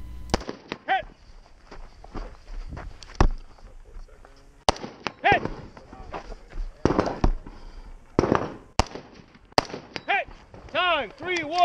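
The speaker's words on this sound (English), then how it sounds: "retrieves their rifle with a cold chamber, and engages this steel target at 100 yards." Rifle shots ring out at an outdoor action shooting match, aimed at a steel target 100 yards away, with sharp cracks at irregular intervals and a few metallic target pings, over voices talking and calling nearby.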